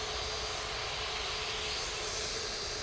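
Jet2 Airbus A321neo departing Manchester Airport, a steady, broad engine roar at a distance with no break over a few seconds.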